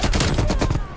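An M60 machine gun fires in a Call of Duty Warzone match on Rebirth Island, a rapid string of loud, close shots that drum steadily for about a second and then cut off.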